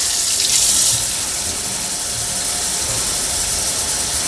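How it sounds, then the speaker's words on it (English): Water runs steadily from a kitchen tap into a sink while dishes are being done, a loud continuous hiss and splash with no pauses. "And then we'll just add water to this."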